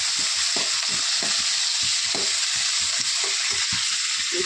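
Curry leaves fry in hot oil, a continuous loud sizzle with rhythmic scraping stir strokes and no talking.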